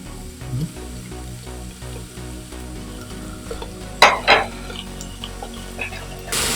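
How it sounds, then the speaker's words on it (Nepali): Chicken pieces sear in a pot before being made into stock, a steady close sizzle with stirring scrapes and a few sharp clatters of a utensil against the pot. "यसलाई चाहिँ हल्का सुरुमा अलिकति ग्रिल गर्छौँ ताकि त्यो बोइलको स्मेल नआओस्।"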